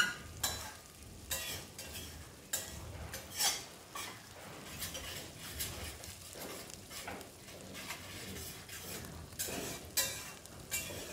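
Masala sautéed in a pan with a spatula scraping and clanking in an uneven rhythm over a low sizzle, quiet and close, with no talking.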